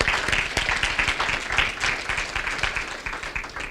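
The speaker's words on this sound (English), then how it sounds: "if we can give him a round of applause" A room full of people applauds at a community donation event, a dense, steady patter of many hands clapping throughout, fairly close and loud, with no talking over it.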